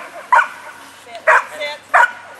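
A very young agility dog at a demonstration at a hunting and fishing show gives three short, bright yips or barks, spaced roughly a second apart, fairly close over faint background voices.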